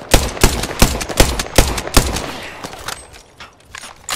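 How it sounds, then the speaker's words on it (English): Rapid automatic gunfire from the Apex Legends game rattles in a loud burst of evenly spaced shots, then thins into scattered, quieter reports. "Someone's out there. Getting shot."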